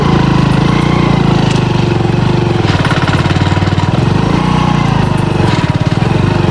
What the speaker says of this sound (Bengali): শাল গাছের মূলের ভিতর দিয়ে আমরা আসলে বাইকটা চালাচ্ছি